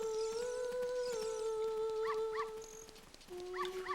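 A dog whimpers and yips in The Legend of Zelda: Ocarina of Time, several short high cries heard close over steady in-game background music.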